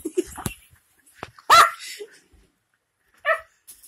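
A Yorkie barks a few short, sharp times at close range indoors, with gaps between the yaps and brief faint voices nearby.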